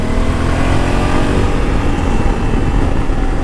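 A Honda Africa Twin DCT motorcycle engine revving, a loud, steady, throaty roar held close and constant throughout with no voices.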